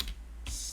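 A computer keyboard is tapped briefly while a command is entered at a command prompt, a quick close burst of a few keystrokes with no talk.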